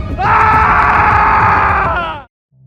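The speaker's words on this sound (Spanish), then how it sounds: "solo se escuchó un grito desgarrador" A single long, piercing scream rings out loudly and close, sustained for about two seconds before cutting off abruptly.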